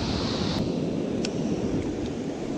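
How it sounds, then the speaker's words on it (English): Ocean surf and heavy swells rolling in on the Oregon coast during surf fishing, a steady broadband wash with wind buffeting the microphone throughout and no distinct individual wave breaks. "Those swells are gnarly."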